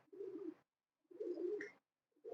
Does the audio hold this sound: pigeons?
yes